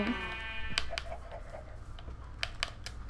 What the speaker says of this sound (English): Oh, there's a sheep.